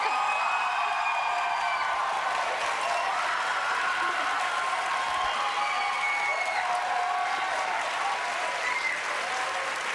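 Steady, dense studio audience applause on a Quebec reality show, loud and continuous throughout with occasional whoops and little else over it.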